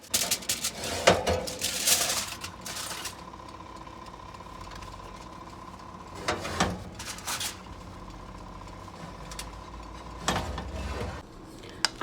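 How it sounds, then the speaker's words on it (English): A spoon turning jollof rice in a pot, scraping and clinking in a few short bursts separated by quiet stretches, close and fairly loud against a low steady hum. "I am turning the rice gently"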